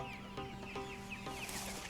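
Meat chickens on a farm raising about 2,000 birds cluck in a quick series of overlapping, fairly soft calls close by, with no talk over them.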